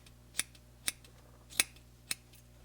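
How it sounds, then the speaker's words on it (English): Scissors trimming a moustache, four crisp close snips spaced about half a second apart against a quiet background. "I maintain my scissor at about the same angle, and we trim a few times as we go around."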